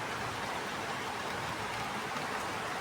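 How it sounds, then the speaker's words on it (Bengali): Rain streams down a window during a windy downpour, a soft, steady hiss of falling water, faint and continuous, with no voices. "এই যে জানলা আমাদের বেয়ে বেয়ে বৃষ্টি পড়তেছে।"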